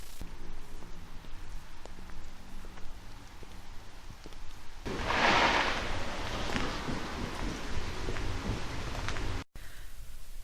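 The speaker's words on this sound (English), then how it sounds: "It is raining so much today." Heavy rain pours steadily outdoors, a dense hiss that swells louder for a stretch midway before easing back, with no voices.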